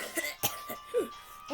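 Several short, fairly faint coughs and throat-clearing sounds come in quick succession from a person imitating a cough in a playful setting.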